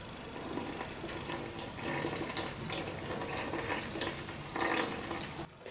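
Rice flour and water batter is poured carefully into the openings of a Feya MK-180 noodle maker, making a continuous, close splashing trickle that runs steadily for several seconds with no talking.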